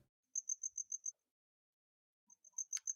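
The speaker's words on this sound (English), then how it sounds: "there's some very loud crickets" Loud crickets chirping outdoors close by, in two bursts of rapid, evenly spaced high chirps separated by a short silence, with no talking.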